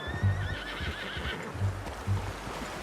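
A horse in Red Dead Redemption 2 gives a clear, drawn-out whinny that rises and wavers, heard alone against a low rumbling outdoor background with a few dull thumps.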